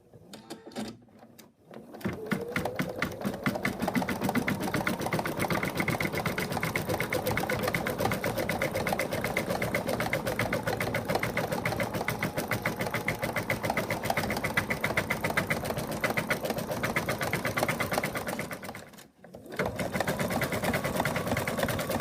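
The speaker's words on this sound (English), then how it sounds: "So now we're going to start sewing around." A sewing machine stitches around a TimTom the Cat toy pattern, running in a fast, steady, continuous whir close by, with one brief pause near the end before it starts again.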